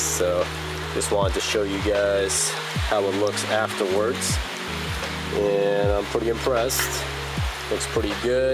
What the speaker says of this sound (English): Sorry about the rain, it's just been raining non-stop for the past like 3 or 4 days.